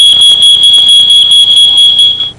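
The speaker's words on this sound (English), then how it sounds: "The smoke detector goes off." A smoke detector alarm sounding alone, a loud, piercing electronic tone pulsing in rapid, regular beeps about ten times before it cuts off abruptly at the end.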